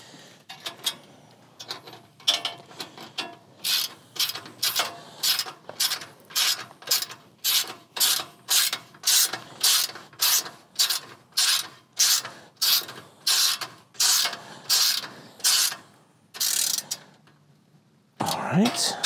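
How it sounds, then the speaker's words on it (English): A ratchet cranks to tighten a fitting on a rickshaw cargo trailer, with a steady series of about twenty sharp close clicks in even rhythm, then a brief pause and a last rattle. "you don't have to crank it too hard, but you wanna get to the point where you can't turn it anymore"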